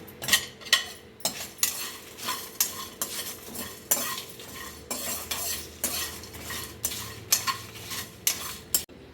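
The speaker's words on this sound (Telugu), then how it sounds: "మీడియం ఫ్లేమ్లో పెట్టుకొని నీట్గా ఇవన్నీ వేయించేసుకోండి" Chopped spices fry in a pan over a medium flame as a utensil stirs them, making a run of quick scraping, clinking strokes close up over a soft background sizzle.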